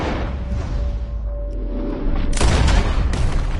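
PS4 video game gunfire, a dense, loud roar of shots and booms that swells sharply partway through into a heavier barrage.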